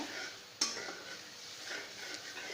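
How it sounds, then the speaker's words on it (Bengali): Garlic, cumin and onion paste stirred in a pan while making rui fish bhuna: soft frying hiss with a sharp utensil clink against the pan and quiet scraping strokes. "এখন একটু নেড়ে নিব"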